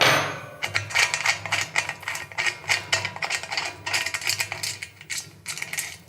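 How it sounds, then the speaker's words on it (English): A wrench turning a post on a homebrew keg gives a series of quick metallic clicks and ratcheting taps in irregular bursts, close and fairly loud, with no talking. "Same wrench. Let's give it a good couple of turns."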